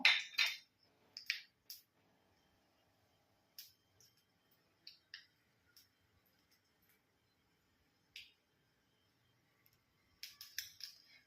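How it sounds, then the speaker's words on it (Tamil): Mustard seeds crackle in hot sesame oil while tempering for hotel-style tiffin sambar. Scattered sharp pops and sizzling clicks come in short bursts, thicker at the start and end and sparse in between, with no talking. "இதில் இந்த கடுகை போட போகிறோம் கடுகு பொரியட்டும்"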